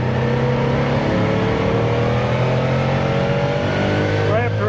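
A fully restored 1970 Porsche 914-6 flat-six revs loudly up to its 7,000 rpm red line, the engine note climbing steadily and staying close and continuous throughout, with a brief sweep near the end.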